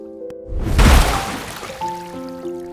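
A cartoon elephant flings a trunkful of water onto an ant, a single near splash that swells, then fades, with a light musical score underneath.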